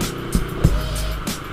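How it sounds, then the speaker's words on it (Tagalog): Heavy holiday road traffic in the Philippines, a dense rumble of car and truck engines nearby with a few louder swells as vehicles pass close by. "Kahit holiday guys, ito naman napaka-traffic."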